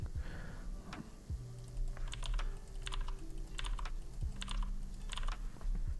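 Computer keyboard typing during a SwiftUI coding session, with quick clusters of crisp clicks in irregular bursts over a low background hum and no talk.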